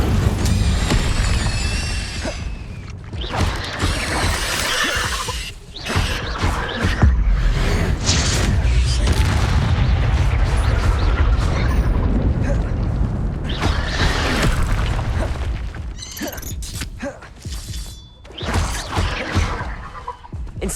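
Repeated Incendio fire spells burst and whoosh in Hogwarts Legacy, loud crackling blasts of magic flame recurring through the fight amid booming impacts and game noise.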